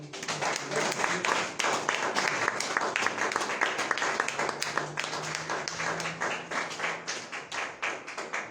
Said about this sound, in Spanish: ¿Cuántos le dan un fuerte aplauso al Señor?